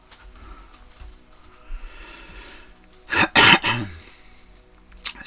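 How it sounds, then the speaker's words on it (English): A person coughs several times in a short burst, loud and close, with a quieter cough after a pause and faint room noise before. "Excuse me for the cough."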